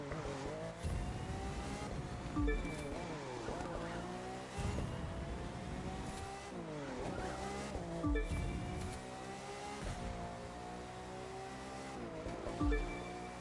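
Hypercars, including a Lamborghini Veneno, race in The Crew 2 video game, engines revving and shifting up repeatedly with tire squeals and skids through sharp turns, loud and close with no talk.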